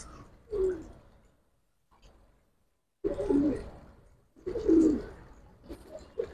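Giribaz pigeons coo in short bursts, three or four soft throaty calls separated by brief silences, heard close by with no talking.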